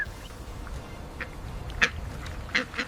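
Mandarin duck giving a few short, faint quacks, two brief calls standing out over steady outdoor background noise.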